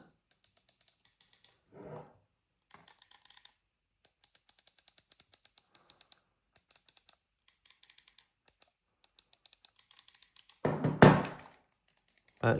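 The buttons on a Mobapad M12 HD game controller give sparse, soft mechanical clicks in quick irregular runs, close and quiet. A louder thump stands out near the end.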